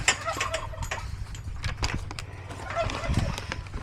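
Chickens cluck and peck around at feeding time, with scattered close clucks and light tapping and scratching sounds over a low background hum.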